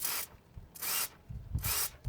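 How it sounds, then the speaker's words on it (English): Brake fluid sprays in three hissing bursts from a hose into a bucket during brake hose replacement on a Ford Fiesta Mk6, each spurt close and loud with faint knocks between. "spraying with this end into the bucket underneath, and any air bubbles should hopefully disappear as we spray"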